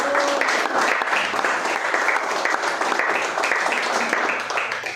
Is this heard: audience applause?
yes